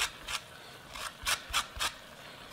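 An orange being zested on a grater: five or six short, bright rasping strokes in an uneven rhythm, close and fairly quiet, with no talking.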